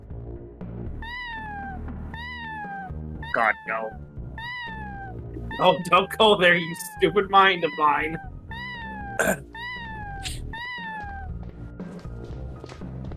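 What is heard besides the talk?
cat meowing in a video game, Plumbers Don't Wear Ties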